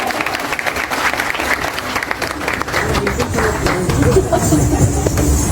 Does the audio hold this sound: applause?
yes